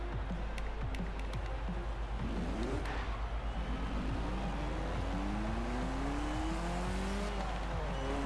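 Old rally car driven in the Forza Horizon 4 racing game, engine revving and shifting with rising pitch sweeps, tire squeal and skids, continuous and fairly close without talk.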